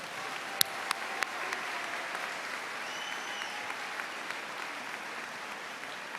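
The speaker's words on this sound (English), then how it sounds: "let's give that first group a huge round of applause" Steady applause from an audience honouring Grade 9 to 11 academic award recipients, an even crowd clapping at moderate distance with a few sharper individual claps standing out and faint background sounds underneath.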